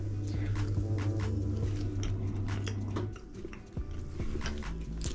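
Crunchy biting and chewing of crispy homemade potato fries, heard up close over a steady low hum, with several soft crunches and wet chewing sounds and no talking.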